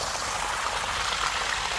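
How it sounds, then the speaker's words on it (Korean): A small stream trickles and gurgles in a steady, close, unbroken wash of water. "물도 이래 돌돌돌 나오고"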